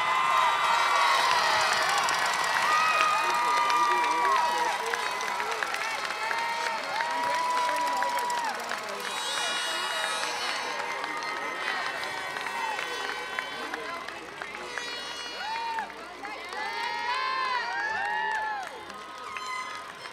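A crowd at the 2018 Weslaco High School graduation ceremony cheers, whoops and applauds a graduate, loud and sustained throughout, with shouting voices mixed into the roar.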